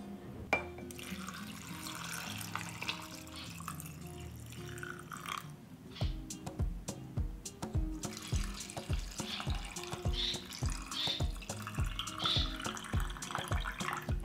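Warm water runs and is poured into glass jars for canning beans with sausage, first a smooth trickle, then a burst of gurgling, glugging pours with glassy clinks, close up.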